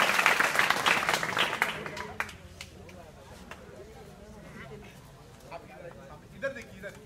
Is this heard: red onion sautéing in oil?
no